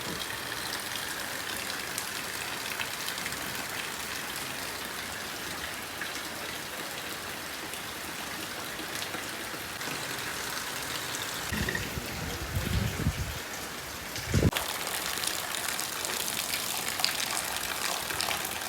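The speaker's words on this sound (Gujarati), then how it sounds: "અત્યારે જોરદાર બાર વરસાદ ચાલુ થઈ ગયો હોય" Heavy rain pours steadily outdoors as a dense, even wash of hiss, with a few louder splashy bursts near the end; no voices.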